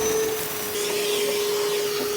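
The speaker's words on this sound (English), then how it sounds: "I just turned my furnace on. Direct vent, this is a blower, so it's evacuating any gases that are in it" A direct-vent household furnace blower runs steadily after being switched on, a loud, constant whooshing drone with a fixed tonal hum, close by and alone with no talking.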